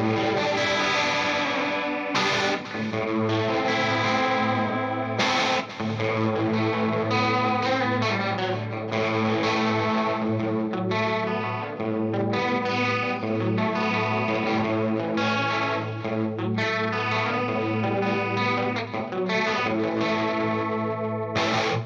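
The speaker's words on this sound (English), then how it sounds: "if we add in the detune is, it creates that nice warbly sound" Electric guitar played through a Headrush unit's detune effect, chords ringing with a warbly, chorus-like shimmer and distortion, loud and continuous with short breaks between strummed phrases.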